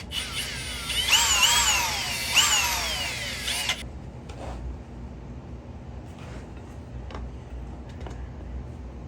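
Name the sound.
drill bit drilling out a motorcycle crank seal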